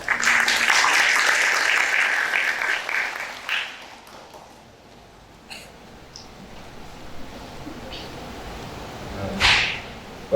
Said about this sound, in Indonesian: Tepuk tangan untuk kawan-kawan semuanya.